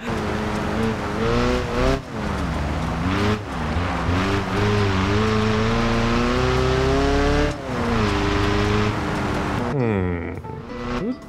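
Car engine with a damaged exhaust pipe in the driving game BeamNG, a loud rasping drone whose pitch climbs and falls through repeated revs and gear changes, running nearly nonstop with a brief drop near the end; a voice talks over it.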